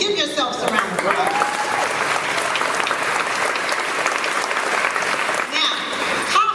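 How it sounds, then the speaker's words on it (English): Students clap together in a steady, dense round of applause that fills the room at close range, with a few voices and cheers mixed into the clapping. "Give yourselves a round of applause."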